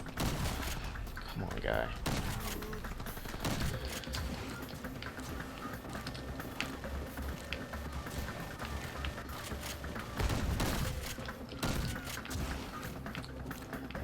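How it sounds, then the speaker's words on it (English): Shotgun fire in the video game R.I.P.D.: The Game, with a few scattered, booming blasts spread over several seconds while someone talks. "Let me take out my shotgun. Maybe that'll help."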